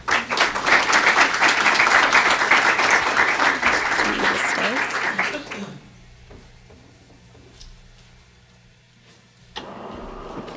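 Audience applause for a speaker at a panel event on poverty and inequality, dense clapping that lasts about five seconds, then drops to a quiet room before talking resumes.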